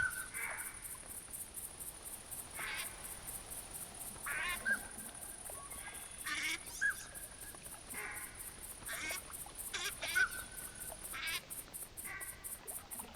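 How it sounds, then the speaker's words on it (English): Ducks quack repeatedly across a bayou in theHunter: Classic, some calls closer and louder, others farther off, over a constant high insect chorus and croaking frogs. "I can hear all kinds of quacking in that"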